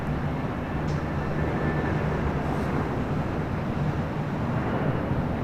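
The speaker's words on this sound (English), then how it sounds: "Right up next here on the north side, Emirates A380 Super." An Emirates Airbus A380 at LAX rumbles with a steady, broad low jet roar, constant and fairly loud with a faint whine above, no voices present.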